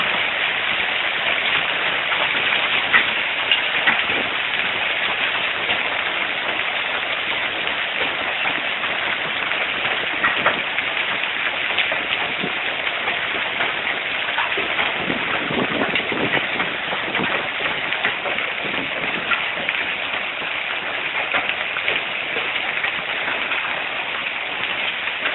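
Large hail pours down steadily in a hailstorm at Shadyside, a dense, constant rattle and hiss of stones striking surfaces that never lets up, loud and close with no talking.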